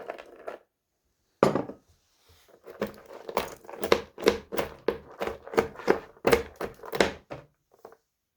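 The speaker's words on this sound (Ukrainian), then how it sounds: "Тепер приступаю до нарізки горішків." A knife chops nuts on a wooden board with a quick run of crisp, crunchy cuts, loud and close, after a pause near the start.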